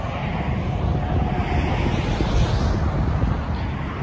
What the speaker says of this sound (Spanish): un ruido molesto, el que se escucha aquí ahora, debido a la A7 que pasa por aquí